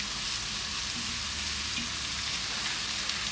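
Sliced capsicums and shredded cabbage sizzle steadily in a hot pan for egg hakka noodles, a continuous loud, even hiss and crackle with no talk.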